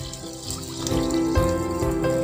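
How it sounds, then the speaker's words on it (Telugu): Water poured into a pot of simmering pepper rasam makes a steady, close pouring and splashing that grows fuller after the first second and continues to the end, with no talking. "ఇప్పుడు వాటర్ మనకి ఎంత చారు కావాలో అంతే పోసుకోండి."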